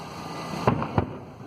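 Display fireworks from Ukraine's team at the World Firework Championships burst in two sharp, booming explosions about a third of a second apart, loud and distant-sounding over a low outdoor murmur.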